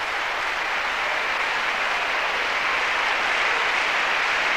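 Sustained, steady applause from an arena audience after a women's balance beam routine at a 1990 national gymnastics championship, a dense even wash of clapping throughout with no voices over it.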